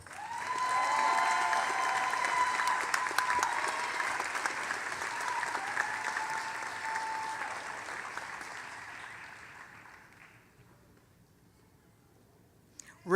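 Audience applause at a University of Louisville law school graduation ceremony: steady, dense clapping from a large crowd that holds strong for several seconds, then thins and fades out toward the end.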